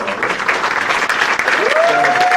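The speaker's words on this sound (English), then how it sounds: "I'd like you to give them a big round of applause" A large audience gives a big round of applause at a hall of fame induction ceremony, dense steady clapping throughout, with a brief tonal squeal rising near the end.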